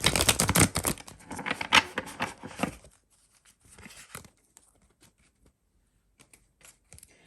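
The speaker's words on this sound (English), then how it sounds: "I'm just going to do a quick shuffle." A quick burst of dense, papery riffling and flicking for about three seconds, then a few soft taps and slides in near silence.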